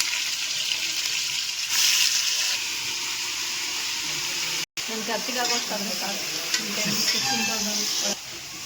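Mutton with onion crackles and sizzles in a hot pressure cooker, with stirring scrapes throughout and a brief cutoff midway; a voice talks faintly in the background.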